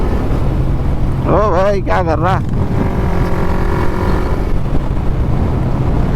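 A Yamaha MT-15 motorcycle runs steadily under heavy wind rush, with a horn-like wavering tone sounding briefly in the middle and a man calling out over the engine noise.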